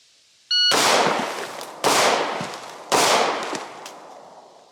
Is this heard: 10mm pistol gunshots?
yes